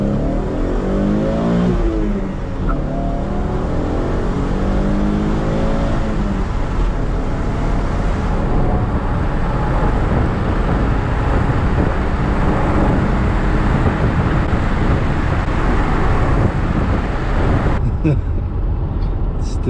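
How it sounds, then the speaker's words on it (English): A V6 Camaro with its muffler deleted at wide open throttle, engine rasping up through rising revs with gear shifts, loud and close, then cutting off near the end. "All right, another wide open throttle."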